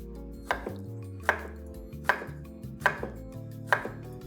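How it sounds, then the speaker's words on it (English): A knife chops through a green bell pepper in five evenly spaced crisp strokes, each a sharp thud on the board, with steady kitchen background hum between cuts. "And we slice against the grain."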